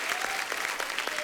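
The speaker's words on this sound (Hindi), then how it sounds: "ओके एक बार जोरदार तालियां" Applause from a television show audience, a steady dense wash of clapping heard close and fairly loud with no talk over it.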